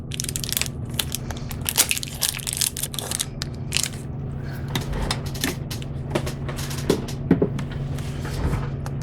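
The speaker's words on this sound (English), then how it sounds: "the first thing we're going to use is the crushed glass" Crushed glass for polymer clay jewelry is handled up close, giving a continuous gritty, crunchy rattle with frequent sharp tinkling clicks of small glass pieces shifting and grinding together.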